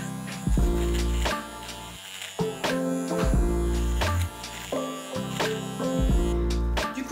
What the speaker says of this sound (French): utilisé la tondeuse pour vraiment retirer tous les petits fils qui dépassaient